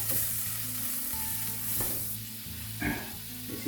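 A large knob of butter melts and sizzles in a pan before onion goes in for an omelette side dish. The sizzle is soft and steady, with occasional utensil knocks and scrapes close by.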